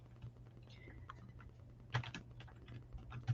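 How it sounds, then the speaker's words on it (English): Faint, irregular typing on a computer keyboard, soft scattered key taps with a few louder clacks against a quiet background hum. "See, I can't type. Keyboard's way over here."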